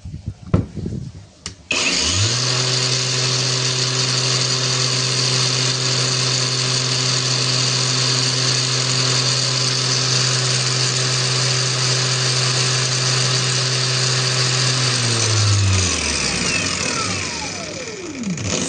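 Cheap Boerte angle grinder powered by a Lucid 15-cell battery spins up to a loud, steady high-pitched whine, holds it for about thirteen seconds, then winds down as the motor coasts to a stop.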